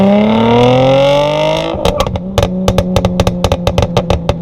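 A straight-piped 2000s Mercedes C320 W203 with a six-speed manual revs up loud and close with a rising drone, then drops into a series of sharp, rhythmic exhaust barks and pops.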